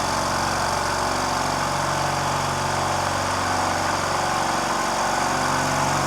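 Chicago Air Hush 150 oil-free air compressor with a 150 litre tank and eight pistons, just started up and running, a steady close mechanical drone with an even low pulsing hum throughout.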